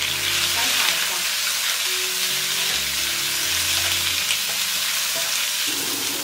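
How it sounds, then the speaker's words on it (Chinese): Pork tripe stir-fried in a wok with peppercorns, a dense continuous sizzle and frying hiss with stirring, close and steady and without any talk. "把猪肚炒香了之后呢"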